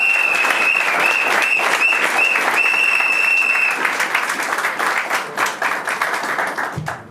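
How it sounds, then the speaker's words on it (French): Loud, steady applause from the guests at a civil wedding ceremony, cheering the bride, Raïssa. A sustained wash of clapping with a high whistle-like tone running through it, thinning into scattered claps near the end. "On l'applaudit très fort"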